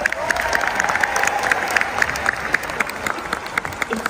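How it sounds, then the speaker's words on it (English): Arena crowd applauding at a Disney on Ice show in Brisbane, a broad, sustained burst of clapping and scattered cheers from a large audience, loud and continuous throughout. "Let's give him another huge round of applause."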